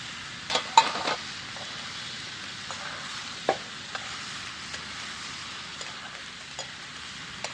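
Potatoes sizzle in a hot pan with a steady fry hiss, broken by a few light clicks of stirring against the pan.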